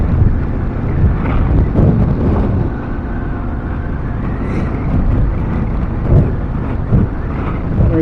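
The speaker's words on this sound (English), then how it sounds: "That wind nearly had me there." Strong cold wind buffets a rider on a 2021 BMW F750GS TE motorcycle, a loud continuous low roar of wind noise on the microphone with gusty swells, the engine hum buried beneath, no talk.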